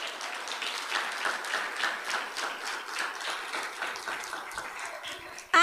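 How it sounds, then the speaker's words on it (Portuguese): A church congregation claps for the Lord, a lively, dense round of applause with a loose rhythmic pulse that keeps going for several seconds before a sudden loud burst at the end. "Você pode aplaudir ao Senhor?"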